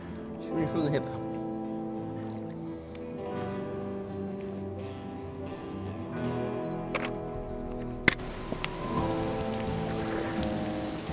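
Steady rain from a tropical storm pattering on surfaces throughout a Florida Everglades swamp, with people talking over it and a couple of sharp clicks near the end.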